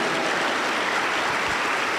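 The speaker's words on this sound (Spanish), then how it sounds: "lo recibimos con aplausos fuertes para Cristo Jesús" Church congregation welcomes a preacher with sustained applause, a dense, even wash of clapping that holds steady and loud throughout without any speech.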